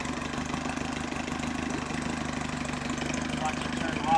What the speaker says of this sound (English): Now I'm going to put it in gear.